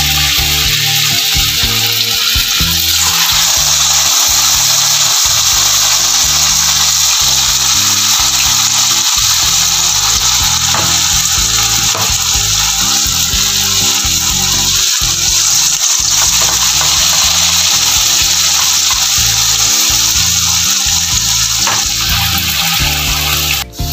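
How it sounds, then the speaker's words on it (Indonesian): Vegetable fritter batter, spooned thin, fries in a generous amount of oil over medium heat, giving a steady, loud, close crackling sizzle that runs without a break. "Kita goreng dengan minyak yang agak banyak ya guys."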